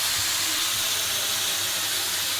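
Chicken legs fry in a pan over medium-to-low flame, a steady bright sizzle and hiss that stays loud and even throughout with no talk.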